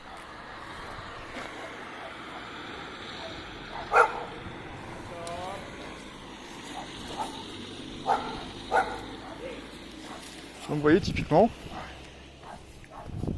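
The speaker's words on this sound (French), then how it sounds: "Là vous avez les chiens qui aboient dans tout le quartier." Dogs bark here and there around a neighbourhood, a handful of scattered, fairly distant barks over a steady outdoor background while someone talks.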